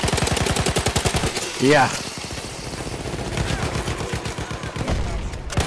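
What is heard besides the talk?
gunfire in Battlefield 1 video game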